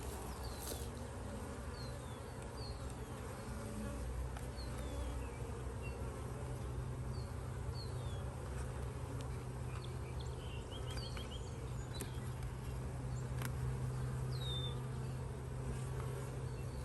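A steady, soft drone of many honeybees buzzing around a backyard hive, with a few faint bird chirps in the background and no talking.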